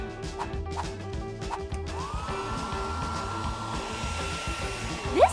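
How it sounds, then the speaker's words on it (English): Hair dryer blowing with a steady whirring hum that starts partway through, layered over cartoonish thuds and effects, with a rising squeal near the end. "It's time to blow dry my hair!"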